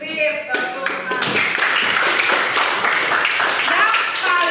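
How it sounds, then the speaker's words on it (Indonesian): A classroom of students clapping hands together in a dense, continuous patter of applause that fills the room, with some voices mixed in, lasting several seconds. "Sip, tepuk tangan."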